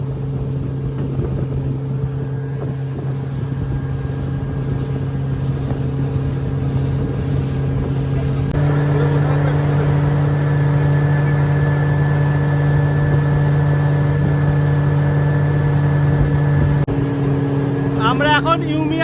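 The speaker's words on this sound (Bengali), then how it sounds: "আমরা এখন ইউমিয়াম লেকের স্পিড বোট রাইড করছি।" A speedboat on Umiam Lake in Shillong roars with a steady loud engine drone and rushing wind. The engine pitch rises partway through, and a voice is heard briefly near the end.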